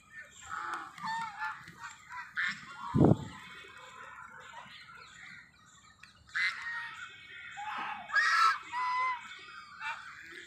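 A duck near a pond gives loud honking, squawking calls in several bursts, fairly close, with outdoor background noise in between.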